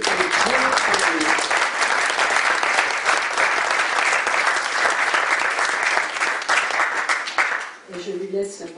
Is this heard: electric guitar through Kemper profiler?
no